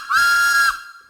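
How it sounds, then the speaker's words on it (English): A train guard's whistle gives one loud, shrill, steady blast lasting under a second, close and clear, then fades out quickly with no voices. "The guard then blew the whistle."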